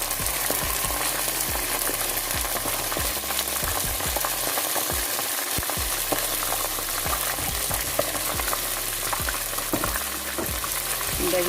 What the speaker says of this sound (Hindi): और अब हम इसके अंदर जो हमने ये जो दही था हम इसमें ये ऐड करेंगे